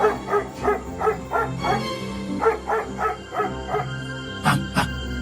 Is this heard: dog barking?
yes